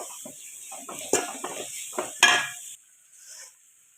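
Ginger-garlic paste sautéed in a pan for chicken curry, with scraping and clinking of a spoon against the pan and a steady high sizzle that stops partway through, leaving faint quiet stirring.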